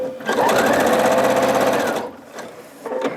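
A sewing machine runs steadily for about two seconds while stitching jelly roll quilt rows, with its fast rhythmic stitching hum loud and close, then stops, followed by a couple of brief short bursts.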